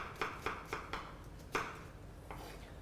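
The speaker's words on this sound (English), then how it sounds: "So here we're going to slice the onions." Red onions being sliced with a knife on a board, giving a string of crisp, close cuts about every quarter second, then a pause and a couple of further slices.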